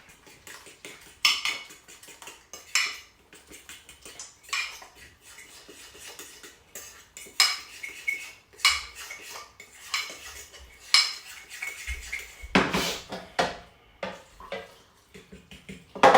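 A spoon stirs condensed milk into Jamaican cornmeal porridge in a pot, making repeated close scraping and clinking strokes of metal against the pot in an uneven rhythm, with a louder clatter toward the end.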